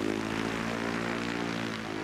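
A small two-seat propeller airplane in Tsavo drones steadily with a constant engine hum, loud and close throughout.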